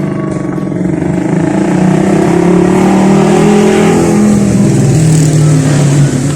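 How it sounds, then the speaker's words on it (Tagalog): Heavy highway traffic roars past an outdoor park eating spot: a loud, continuous wash of car and motorcycle engines with rising and falling revs, close and unbroken throughout. "So pagpasensyahan nyo na, highway ito."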